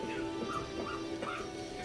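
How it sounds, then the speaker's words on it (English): Dogs whimpering and yipping, likely a yeth hound sound effect during a tabletop fantasy role-playing session, steady and fairly quiet with faint whines rising over a dense background hum. "It's fucking dogs!"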